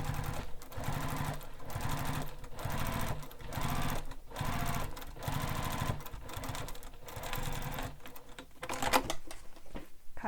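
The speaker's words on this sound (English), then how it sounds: "So top stitch this seam all the way along." A sewing machine runs steadily while top stitching a bag seam, its rapid rhythmic needle clatter close and continuous for about ten seconds with brief pauses and slight speed changes.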